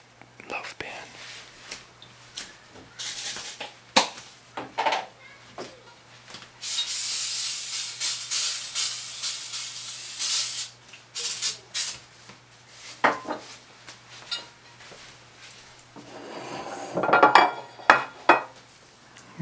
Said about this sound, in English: So I'm gonna go step aside and grease down a loaf pan.